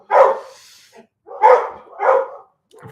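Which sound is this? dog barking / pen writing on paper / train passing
dog barking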